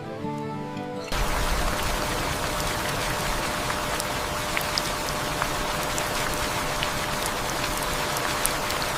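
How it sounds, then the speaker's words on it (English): Steady rain falls on surfaces in a mountain village, a dense, even hiss with scattered sharper drop taps, close and continuous after a quiet start. "It's lovely to just sit and watch the rain, isn't it?"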